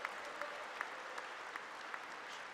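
An audience at a school assembly applauds in a steady, even wash of clapping with a few sharper claps standing out at intervals, heard fairly distantly throughout.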